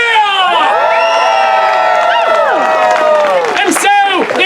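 A theatre audience at a Romeo & Juliet performance erupts in loud, sustained cheering, with many voices whooping and shouting together close by, swelling and then breaking into scattered high yells.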